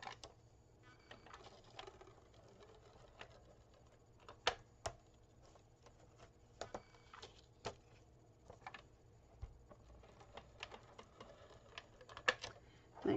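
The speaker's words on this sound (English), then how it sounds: "now I'm just going to use my ATG tape on this and tape it all the way around" ATG tape dispenser clicks and ticks softly and irregularly as tape is run around the edges of a craft card, faint scattered taps over low room hum.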